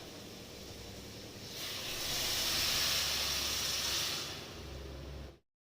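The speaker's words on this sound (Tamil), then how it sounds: "நல்லா கொதிக்குது கண்ணே." A pot of water boils with a soft, steady hiss that swells louder through the middle, then eases before cutting off abruptly.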